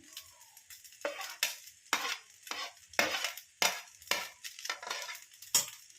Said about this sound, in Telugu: కొంచెం రైస్ ఉన్నాయి ఇది కూడా వేసేస్తున్నాను